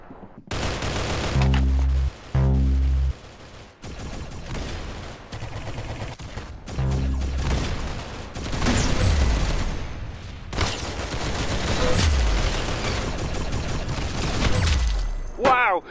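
Video-game gunfire crackles in repeated bursts and volleys across the whole stretch, loud and close, with heavy booming hits early on and a dense, busy mix throughout.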